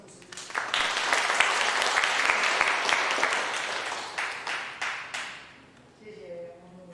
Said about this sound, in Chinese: 现在拍手欢迎我们的郑牧师